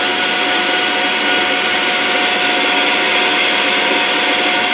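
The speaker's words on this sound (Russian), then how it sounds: "Не знаю, выключать, не выключать пылесос" A vacuum cleaner runs with a loud, steady roar and no breaks. It is part of a homemade induction casting rig while molten aluminum is poured into a flask mold.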